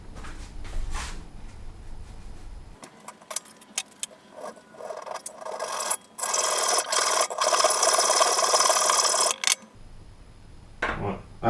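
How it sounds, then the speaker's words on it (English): A hacksaw cuts through a 5mm smooth steel rod wrapped in cloth and clamped in a vise, giving rapid rasping back-and-forth strokes for several seconds, loud and close, with handling noise before and after. "I'm going to use that in the vise with the hacksaw"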